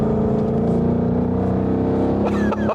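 Car engine running at steady high revs, loud and close, with a strong sustained hum and faint overtones before the tone shifts near the end.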